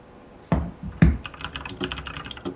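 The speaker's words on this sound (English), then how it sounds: "I was just typing up something." Typing on a computer keyboard: two heavy thumps, then a fast run of light, close clicking keystrokes.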